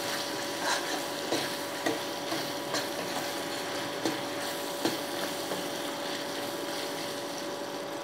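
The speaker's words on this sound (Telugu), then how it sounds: "అన్నం వెల్లుల్లిపాయి అల్లం వెల్లుల్లిపాయ పేస్ట్ కూడా ఏగే వరకు వేయించుకోవాలి." Ginger garlic paste sizzles steadily in a pan for a Telugu cucumber curry, a continuous soft crackle with occasional spoon taps and scrapes, heard alone without talk.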